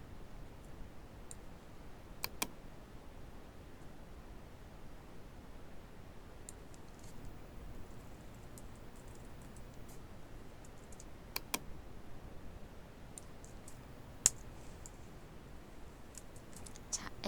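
Faint mouse clicks and sparse keyboard taps from editing work in Photoshop, a few isolated sharp clicks spaced seconds apart over a quiet background.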